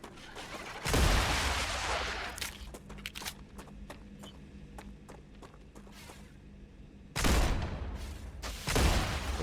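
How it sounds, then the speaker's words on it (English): Enemy gunfire in the video game StarRupture, with heavy booming bursts at the start and end and scattered sharp shots and footsteps between them, fairly loud and without talk. "Oh, you are shooting me from a distance."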